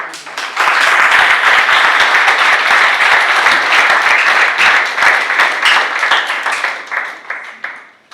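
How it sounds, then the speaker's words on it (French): A wedding audience at a town hall and church ceremony claps steadily and loudly, dense applause rising quickly and holding for several seconds before thinning out toward the end. "applaudissons encore très fort"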